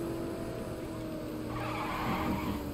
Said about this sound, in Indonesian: Misi. Mobil Batman mau lewat nih.